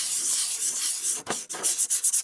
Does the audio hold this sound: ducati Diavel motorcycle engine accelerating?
no